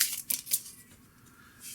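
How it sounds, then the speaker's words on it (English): Board game cards shuffled in a two-player session, a few quick papery riffle bursts at the start, then soft faint handling rustle, fairly close and quiet with no voices. "we will shuffle these cards up"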